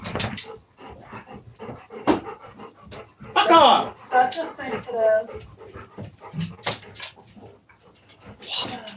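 A dog panting and whimpering close by in a rural yard, with no distinct barks, while someone talks over it.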